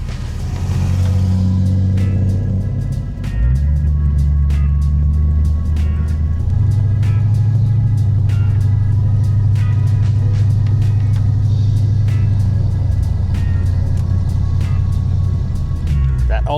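A 1976 Ford ZH Fairlane with a 351 V8 rumbles steadily while driving, a loud, deep, continuous engine drone that swells briefly as it pulls away and then holds close and heavy throughout.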